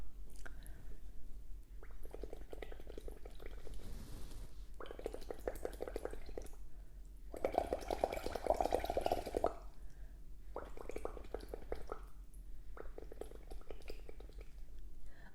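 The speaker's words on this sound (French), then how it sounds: "je veux simplement m'amuser à faire des bulles plus petites" Air blown through a straw into water makes bursts of bubbling of varying size, several separate gurgling runs with short pauses between them, close and fairly quiet.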